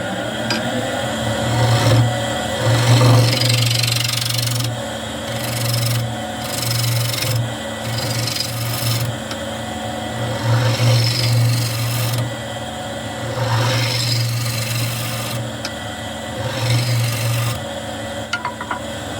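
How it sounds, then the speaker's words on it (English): A bowl gouge cuts into spinning black walnut on a wood lathe, giving a rough, rasping scrape that pulses on and off over a steady motor hum, close and loud with no talking. "So I'm going to use my bowl gouge. Start that up."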